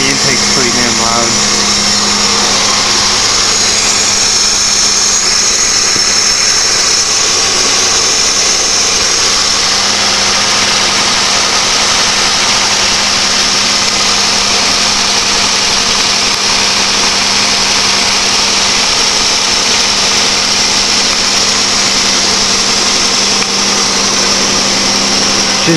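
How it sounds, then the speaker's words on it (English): A Chevrolet Monte Carlo with a three-piece cold air intake idles on a cold start, a loud steady engine drone with a strong intake hum, continuous and close. "As you can hear, the intake's pretty damn loud."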